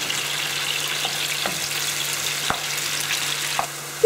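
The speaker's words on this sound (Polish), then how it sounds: "Pieczarki i brokuła smażyłam około 3 minut." Mushrooms and broccoli fry in a pan with a steady, close sizzle, a few soft clicks of stirring breaking through the hiss; no one speaks.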